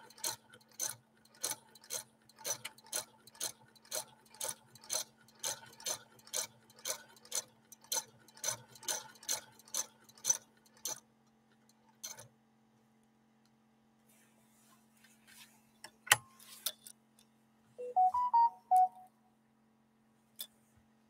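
A 1948 Frister & Rossmann sewing machine stitching tricky bubblegum fabric, a regular run of sharp mechanical ticks about twice a second for ten seconds over a low steady hum, then stopping with a few faint clicks and rustles afterward.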